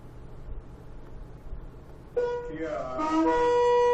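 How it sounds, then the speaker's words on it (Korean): A shofar, the ram's horn, sounds a single long tekiah blast: a brassy tone that enters abruptly after near silence, bends upward in pitch and holds loudly to the end. "먼저 테키아 소리입니다."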